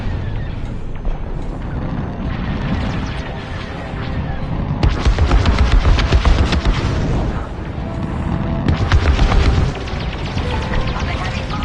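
Heavy weapons fire from the Star Wars: Squadrons space combat game rumbles in loud repeated booms and blasts, growing denser in two intense bursts midway, with game voices over the din.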